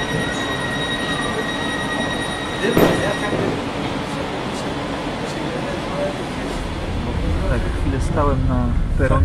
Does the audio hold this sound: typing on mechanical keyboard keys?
no